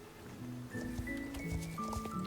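Horse hooves in the Star Stable online game, a quick run of soft clip-clop steps with faint tonal game sounds over them, close and steady.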